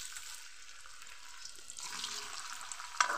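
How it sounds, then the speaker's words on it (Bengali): French fries frying in hot oil, a steady close bubbling sizzle that grows busier and more hissing partway through, with a brief clatter near the end. "এভাবে আমি বাকিগুলোও ভেজে নিব।"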